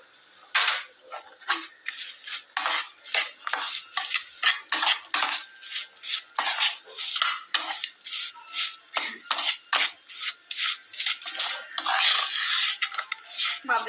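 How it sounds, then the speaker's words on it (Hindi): A spoon stirs raisins and brown sugar into panjiri in a pan, making close, quick rhythmic scrapes and clinks of metal against the vessel that run almost continuously without pause. "किशमिश को मिक्स करने के बाद इसके अंदर मैं भूरा चीनी डाल दूंगी।"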